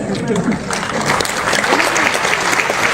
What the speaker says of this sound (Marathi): कवयित्री गुंजन पाटील यांच्यासाठी एकदा जोरदार टाळ्या